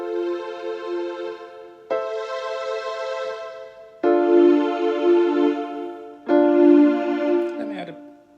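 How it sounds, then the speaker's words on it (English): Keyboard sounding four sustained chords in root position, each struck cleanly and held about two seconds, forming a slow, evenly spaced chord sequence with no talking. "if I just play those 4 chords in their root positions"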